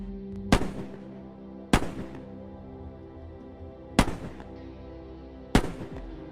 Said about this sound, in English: Ultimately, they elect David Drayton, the protagonist, to shoot all of them as an act of mercy